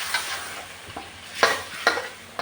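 Vegetables with carrots being stir-fried in a pan: a few separate spatula scrapes and stirring strokes, each a short swish, over a faint background sizzle.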